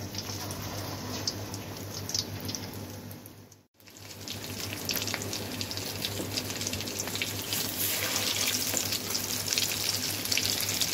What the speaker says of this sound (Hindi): अब इसमें हम आलू का बॉल डाल देंगे।